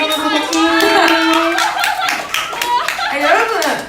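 Children at an elementary church worship service clap their hands loudly and steadily throughout, while an adult voice and other voices talk over the clapping.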